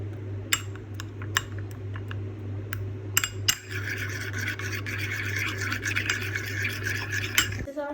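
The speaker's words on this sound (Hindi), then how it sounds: "हम इसको करेंगे अच्छे से मिक्स" A spoon scrapes and stirs a face mask paste mixed with milk in a small bowl, with sharp metallic clinks against the rim followed by steady gritty rubbing over a constant low electrical hum.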